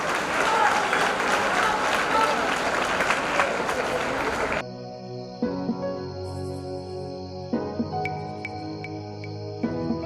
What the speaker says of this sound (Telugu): ఈనాటి కార్యక్రమాన్ని మనందరి చప్పట్లతో